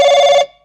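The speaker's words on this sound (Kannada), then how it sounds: "ಫೋನ್" A telephone rings indoors in a home at mealtime: one loud, steady electronic ring of about half a second that cuts off abruptly, followed by near silence.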